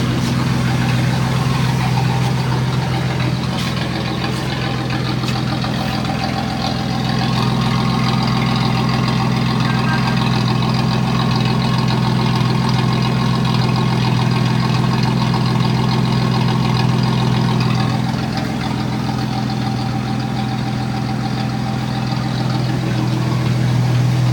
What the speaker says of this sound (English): you can still hear the rumble of the engine if you step on it